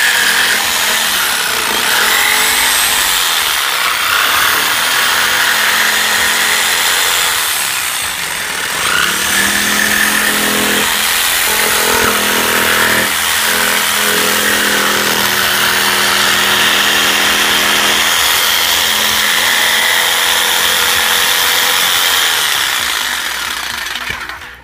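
A DeWalt scroll saw cuts small letters from MDF board, a loud steady motor drone with rapid blade chatter that holds for the full stretch, dipping only slightly along the way.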